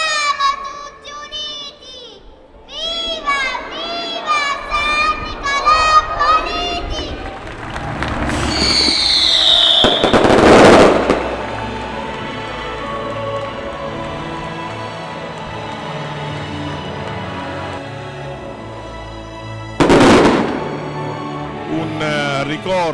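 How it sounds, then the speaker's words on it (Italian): Fireworks at the San Nicolò Politi festival in Adrano burst in a couple of loud, sharp booms over a steady murmur of a crowded square, with music and voices heard earlier. "accompagnata poi dai fuochi d'artificio"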